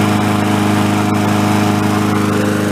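An old antique lawn mower engine runs close and loud with a continuous, even, buzzing putter and steady rhythmic pulses throughout, with no pauses.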